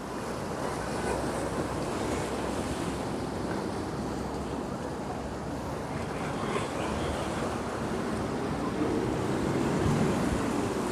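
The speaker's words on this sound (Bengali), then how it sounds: "সুন্দর অনেক বড় বড় ঢেউ হচ্ছে" Big ocean waves breaking on Patenga beach, Chittagong, a loud, continuous wash of surf with steady roar and wind noise, no distinct pauses.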